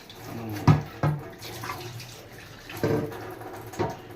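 Plastic bottles being washed under running water, with splashing, sloshing bursts and a few sharp knocks against the sink over steady water noise, close by.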